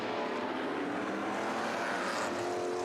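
Dense, continuous roar of Lola T332 Formula 5000 race cars, two side by side braking into a complex of corners at Taupo, loud and steady throughout with no talk.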